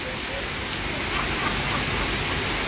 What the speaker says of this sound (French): Il pleut vraiment des cordes.